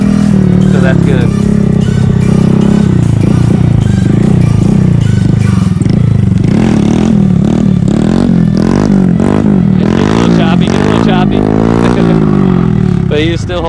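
Motorcycle engine revving hard and close as the rider accelerates into a wheelie, the pitch climbing and dipping through throttle changes over a steady loud drone, with people talking over it throughout.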